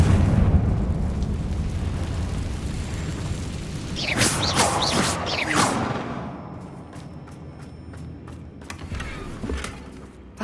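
The Confringo blasting spell in Hogwarts Legacy, cast in a mine: a rumbling build bursts into a bright crackling explosion with debris, then tails off into faint creaks and scattered clinks.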